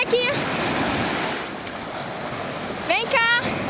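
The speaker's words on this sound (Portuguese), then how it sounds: "Para de mergulhar assim na água." A pit bull plunges its head into water, with splashing and sloshing throughout and louder sharp splashes near the start and end, while a person talks nearby.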